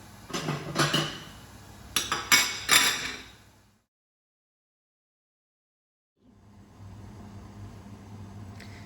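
A lid is set on a pan of chicken cooking over high heat. Several close metallic clanks are followed by a pause and then a low simmering hiss with no speech.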